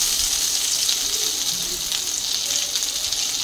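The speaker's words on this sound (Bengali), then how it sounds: "এই যে পটল ভাজা বসিয়েছি।" Pointed gourd (potol) slices fry in a pan in a home kitchen, giving a steady close hiss of sizzling oil throughout, with no talk.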